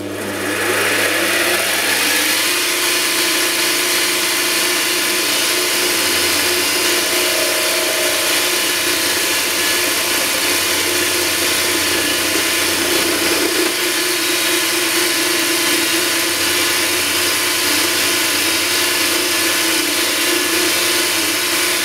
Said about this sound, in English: Now I'm going to mill this face off so it's nice and square